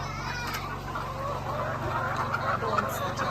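Chickens clucking on a village poultry farm during feeding time, scattered clucks over a steady low mechanical hum.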